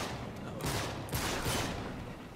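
Rapid gunfire from the video game Uncharted 3: a dense, continuous fusillade of overlapping shots with a couple of sharper bursts, loud and close throughout.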